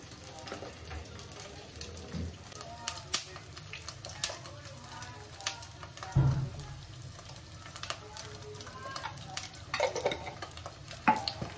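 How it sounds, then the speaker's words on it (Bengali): Eggs frying one at a time in a pan for an egg poach curry, a faint sizzle under frequent utensil clinks and stirring scrapes against the pan. "একটা একটা করে ডিম ভেজে কারি করে নেব।"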